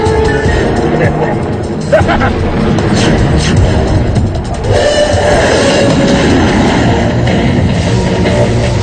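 A train rumbles steadily through a movie scene, a loud continuous roll with clattering wheels and mechanical noise under music and dialogue.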